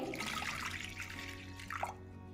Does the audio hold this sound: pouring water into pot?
yes